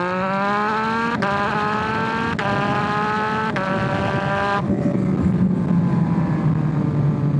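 Yamaha XSR900 motorcycle with a flashed ECU revving up hard in first gear, its engine note climbing steeply in several rising sweeps before easing back to a lower drone, loud and close with no talking.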